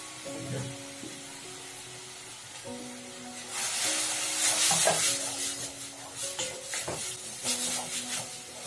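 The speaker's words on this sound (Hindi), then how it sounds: "लहसुन चला दियौ, ओकरा बाद प्याज दऽ दियौ।" Garlic and onion fry with turmeric, coriander and chilli, a sizzling hiss that swells midway as a spoon scrapes and stirs the pan, over a steady tonal hum.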